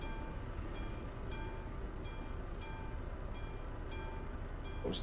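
Short train passing a level crossing in Euro Truck Simulator 2, a quiet steady rolling rumble with regular faint clicks of wheels over rail joints.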